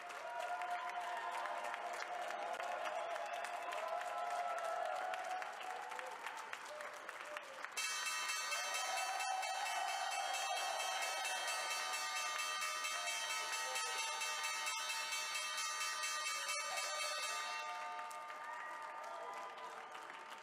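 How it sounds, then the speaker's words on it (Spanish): At the Wall Street stock exchange opening for IBM, a bright ringing bell sounds steadily for about ten seconds amid continuous crowd applause and cheering, with the clapping carrying on before and after the ringing. "vamos con el toque de campana en Wall Street de IBM"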